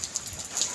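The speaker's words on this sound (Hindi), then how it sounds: "ये पूरा हवा के साथ बारिश हो रही है" Heavy rain driven by wind pours down steadily during a flooding downpour, water rising around a half-submerged house, a continuous close hiss of drops with brief gusty swells and no voices.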